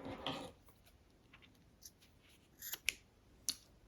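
Scissors snipping a knitted yarn end on a finger-knit scarf, a few quiet separate close cuts with faint rustling between.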